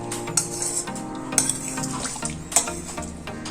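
Tamarind juice being stirred into an Andhra-style elephant foot yam curry, with scraping spoon-against-pot clatters and a soft bubbling sizzle underneath, several distinct clanks over a few seconds, close and moderately loud.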